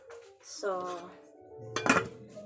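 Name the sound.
dishes and plates clinking while being washed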